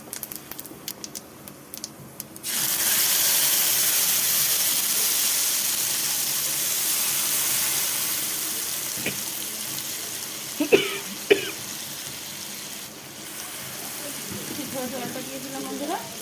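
Whole spices tempering in hot oil for a Bengali home-cooked dish: a loud, steady sizzle bursts in after a quiet start and hisses on continuously, with a couple of sharp utensil clinks near the end.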